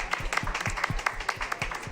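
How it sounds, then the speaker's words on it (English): A small group at an energy transition conference in Santa Marta, Colombia, clapping in a brisk, fairly even rhythm, close and moderately loud, lasting only a moment. "Round of applause."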